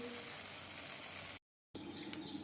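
Kara boondi crisping in hot oil gives off a steady, dense sizzle, broken by a brief moment of silence before the frying picks up again with faint chirpy crackles.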